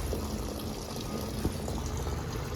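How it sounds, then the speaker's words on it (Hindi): Water gushes steadily into a drained container being rinsed after cleaning, a continuous close, full-bodied rushing pour with no pauses and no voices. "अब बस एक बार लास्ट इसमें हम पानी डालेंगे।"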